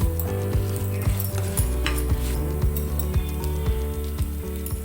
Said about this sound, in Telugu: పచ్చిశనగపప్పును కూడా వేసి వేయించాలి. వేగినాక వాటిలోకి ఆవాలు కూడా వేయాలి.